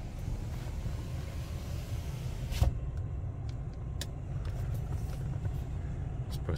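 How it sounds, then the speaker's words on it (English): A red 2004 Mercury Marauder with its factory exhaust accelerates down the road, giving a steady, deep engine rumble with a few faint higher clicks and knocks above it, and no voices. "It's quiet and idle, but a little throaty under acceleration."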